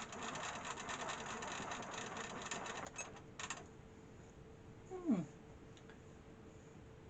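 A home sewing machine running steadily at close range, a fast even mechanical rattle for about three seconds, then stopping, followed by quiet room noise and a brief creak.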